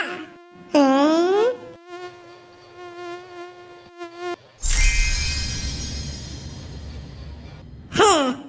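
Cartoon mosquitoes buzz in a loud, dense, high-pitched drone that takes over halfway through and runs steadily for several seconds. Whiny, sighing vocal sounds come before the buzz, and a short burst returns at the end.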